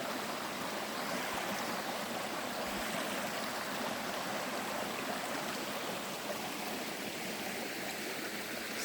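A brook flows through woods in Northern Maine with a steady, close rushing and burbling of water, continuous and unbroken, with no talking.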